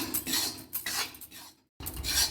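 Wheat flour roasting in ghee over a low flame is stirred in a pan, with rapid, close metallic scraping strokes in bursts, a brief silent gap, then more scraping.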